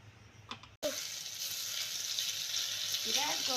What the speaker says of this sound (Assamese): ভাতকেৰেলা আৰু বেঙেনা মায়ে ফ্ৰাই কৰিব।